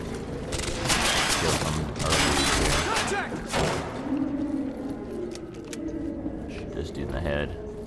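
Gunfire in the video game Quantum Break, dense bursts of rapid shots and booms in the first four seconds easing to scattered impacts, with someone talking throughout.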